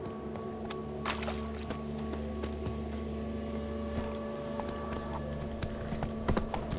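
Horse hooves clop steadily at a riding pace in The Witcher 3, a rhythmic close-up clip-clop over a low ambient hum with faint tack jingles, with no talking.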